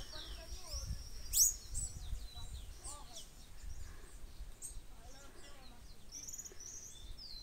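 A small bird chirps outdoors in short, thin, high tweets scattered across the stretch. One sharp call stands out early, and faint rustling and background noise sit underneath.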